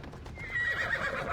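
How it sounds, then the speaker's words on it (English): A summoned horse in Assassin's Creed Odyssey whinnies loudly and close, its neigh rising over a steady clip-clop of hooves, with no voices. "I just need to summon a new horse"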